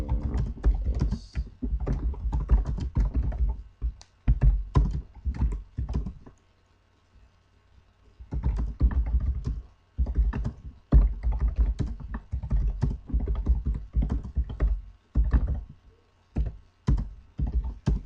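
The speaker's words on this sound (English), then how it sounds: "So for instance, I'll be typing" Rapid typing on a computer keyboard while writing HTML code, bursts of close, crisp key taps broken by short pauses, one longer silence midway, with no talk.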